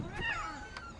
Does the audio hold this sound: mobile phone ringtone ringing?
no